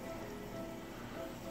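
Steady rain falls outdoors as a faint, continuous hiss and patter with no breaks, and no voices are heard.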